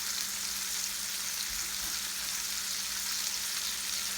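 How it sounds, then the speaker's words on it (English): Bacon frying in a pan for breakfast, a steady close hiss and crackle that goes on with no talk. "Bacon frying right there."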